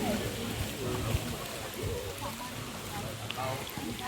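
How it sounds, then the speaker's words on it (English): Rain falls at Wli Waterfalls in Ghana as a steady, broadband hiss of pattering drops and rushing water that stays constant, with voices talking faintly underneath. "raining day at Wli Waterfalls."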